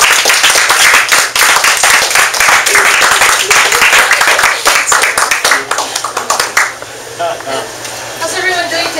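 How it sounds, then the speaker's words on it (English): Audience applause for golf coach Angie Papangellin at a San Bruno networking event: loud, close, crisp hand claps in a steady burst that gradually thins out, with voices in the room as it fades. "why don't we all give her a nice round of applause for Angie"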